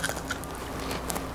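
A crisp crunchy bite into fried zucchini tempura batter, with light crackling and chewing noises close to the mic, fairly quiet throughout.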